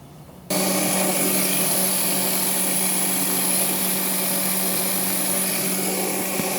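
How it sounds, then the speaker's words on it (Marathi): A kitchen mixer grinder whirs steadily, blending ginger, garlic, coriander and cumin into a paste, a loud continuous motor drone that starts abruptly after a brief quiet moment and runs unbroken. "तोपर्यंत हे मिक्सरला आलं, लसूण, कोथिंबीर, जिरं हे आपण वाटून घ्यायचं."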